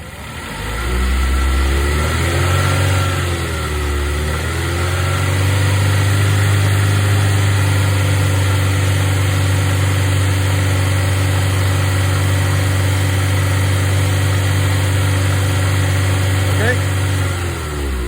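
Suzuki SX4 engine held at a steady 2,500 RPM during a charging test, a loud, continuous mid-pitched drone with a slight waver early on, running alone with no talk.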